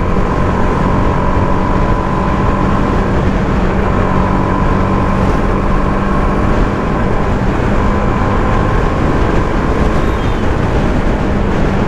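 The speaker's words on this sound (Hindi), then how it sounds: "मेरी बाइक जो है 100-102 की स्पीड पे चल रही है।" A TVS Apache RR 310 BS6 motorcycle at high speed on a track, producing a steady, loud roar of engine and wind rush with a faint tonal whine, continuous throughout without talk.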